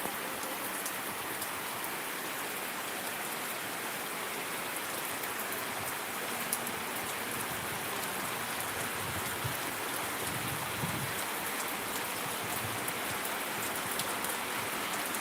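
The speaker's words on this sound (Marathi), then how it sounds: "अतिशय मोठ्या स्वरूपाचा असा पाऊस चालू झालेला आहे" Heavy, steady rain pours down continuously in Solapur district, a dense hiss of drops drumming on surfaces with no pauses and no voices.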